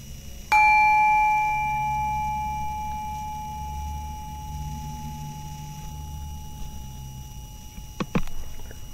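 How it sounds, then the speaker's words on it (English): A single bell is struck once, ringing out clear and loud before fading slowly over several seconds against a quiet background, followed by a faint clank near the end. "Maybe a bell."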